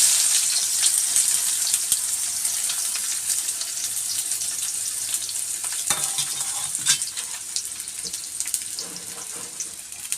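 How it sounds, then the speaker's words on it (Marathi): Onion and bay leaf fry in hot oil for a veg soybean keema, giving a steady bright sizzle throughout with occasional scraping stir sounds, close and loud, with no talking. "आता आपलं तेल असं मस्त गरम झालं आहे. आता मी त्यात आधी तेजपत्ता टाकून घेते. आता आपण कांदा घालून घेऊ."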